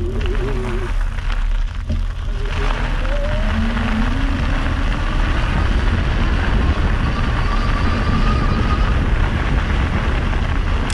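A loud, broad roar dominates throughout, with faint rising and falling tones of a distant airplane passing overhead near Vancouver airport.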